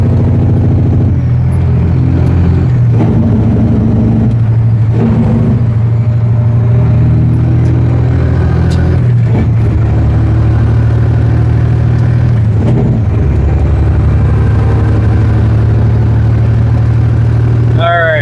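The engine of a fully loaded semi truck heading into the Twin Cities drones loudly and steadily up close, a deep continuous rumble with swells of revving, while someone talks over it.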